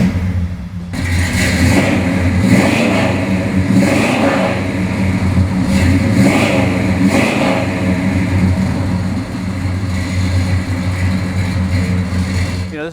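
Deep burbling rumble from a 1970 Oldsmobile 442 V8 idling and revving through a free-flow exhaust, loud and close, with several throttle blips swelling over a steady low idle.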